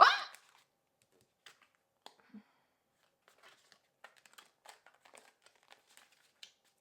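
Tarot cards being shuffled by hand: a quick burst of card riffling at the start, then sparse soft clicks and rustles of cards being handled, close and quiet, with no talk.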